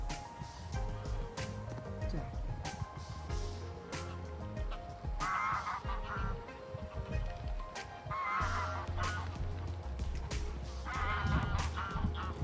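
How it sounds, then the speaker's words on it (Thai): A flock of ducks and geese honks and quacks continuously at a moderate distance, with loud honks breaking out every few seconds over a busy background. "นกน้ำทั้งเป็ดทั้งห่านนะครับ ผสมผสานกันค่ะ"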